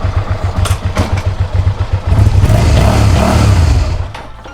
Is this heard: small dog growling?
no